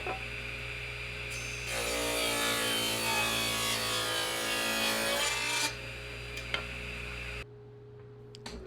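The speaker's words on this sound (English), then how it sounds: "I move back to the table saw to cut each piece to width." A table saw rips wooden boards to width, a steady broadband cutting roar swelling for about four seconds over the motor's constant hum, then dropping away as the blade spins down alone.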